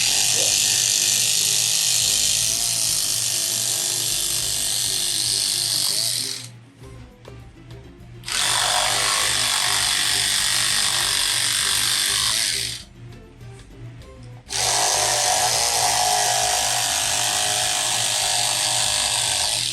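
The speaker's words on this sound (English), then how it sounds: "I like my electric shears." Electric fabric shears cut through heavy fabric with a loud, buzzing mechanical whir running in long bursts, interrupted by two short pauses, close up.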